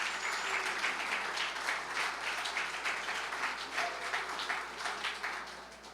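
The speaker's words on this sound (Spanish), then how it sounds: "a ver, dale un aplauso y ahorita les explico" A church congregation applauding, a dense sustained patter of many hands clapping at moderate loudness over several seconds, with little or no speech.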